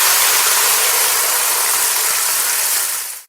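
Water poured into a hot pan of fried moong dal sets off a loud, sustained sizzling hiss that fills the kitchen for about three seconds, then cuts off abruptly; no one speaks.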